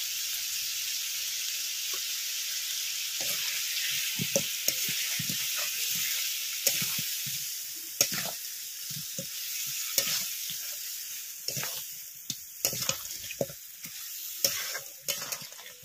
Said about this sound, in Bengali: মশলার সাথে কাঁকড়াটা কিছুক্ষণ নাড়াচাড়া করে নেব।